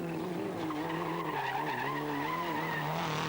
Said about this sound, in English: And sliding the Toyota around nicely